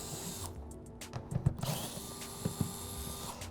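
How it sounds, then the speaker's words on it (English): A power drill backs screws out of a composite 5VM-style front splitter on a C8 Corvette, in short, close whirring bursts separated by brief pauses, with no talking. "we're basically starting in the center and just removing all the screws"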